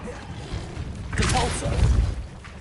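A Bombarda explosion spell goes off in a Hogwarts game: a bright crackling burst followed by a deep, heavy thump, set against a low rumbling background.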